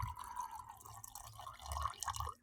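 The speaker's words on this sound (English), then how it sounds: "I was pouring myself another drink and I didn't think it was gonna be that loud." A drink being poured close to the microphone, liquid splashing and dripping into a glass in a steady trickle over a couple of seconds, with no talk.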